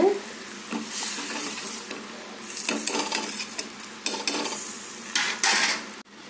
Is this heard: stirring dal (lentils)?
yes